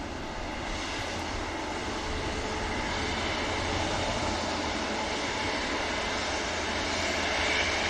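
A Cathay Pacific airliner with Rolls-Royce engines rolls down runway 23 left for departure to Las Vegas, a loud broadband jet roar that holds steady and swells slightly as the takeoff run builds.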